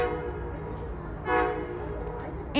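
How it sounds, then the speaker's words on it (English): Low rumble of an approaching Amtrak Silver Meteor passenger train in Savannah, Georgia, with a droning horn tone, moderately distant, building slightly toward the end. "We got a train coming."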